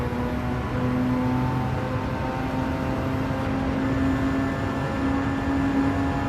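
A car engine in the Gran Turismo 7 racing game is held high in the revs as a steady, dense drone with a constant whine layered on top, continuous and fairly loud throughout.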